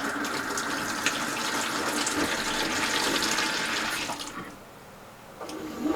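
A glass light globe is rinsed under a running kitchen tap. The water rushes loudly and steadily for about four seconds, then drops away before a brief return.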